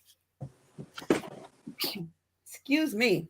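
A person nearby sneezes sharply, then talks briefly and lets out a relieved exhale, with other speech around it and quiet gaps between the sounds.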